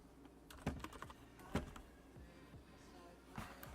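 Keys on a computer keyboard tapped in short irregular bursts, with a few sharper louder clacks among softer typing, close and quiet in a calm room.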